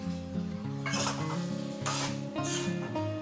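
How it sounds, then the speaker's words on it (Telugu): Tomatoes and capsicum cooking in a pan for a capsicum paneer curry: bursts of sizzling and scraping stirring come and go close by, over a constant tonal hum that sounds like background music. "టమాటా క్యాప్సికమ్ రెండు అయితే ఉడుకుతున్నాయి"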